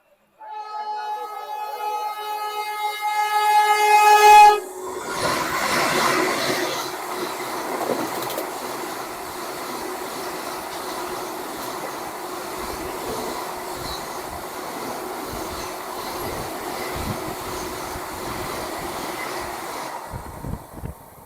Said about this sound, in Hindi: लास्ट में ये आ रही है हावड़ा से चल के पटना को जाने वाली वंदे भारत एक्सप्रेस।